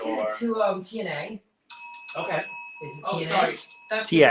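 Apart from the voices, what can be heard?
doorbell ringing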